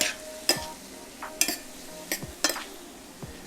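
Meatloaf mixture with herb salt being stirred in a bowl, close and moderately quiet, with a handful of sharp utensil clinks against the dish over soft squelching and faint sizzling in the background.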